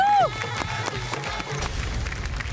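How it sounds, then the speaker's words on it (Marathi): Audience on a Marathi children's dance reality show, Dance Maharashtra Dance Little Masters, breaking into applause. Quick overlapping claps and crowd noise follow a brief musical tone, fairly close and steady. "जोरदार टाळ्या."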